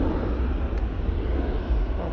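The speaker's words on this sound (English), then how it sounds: "There goes that Jet2." A Jet2 airliner passes over Manchester Airport in low visibility, a broad steady roar of engine noise holding at even loudness throughout.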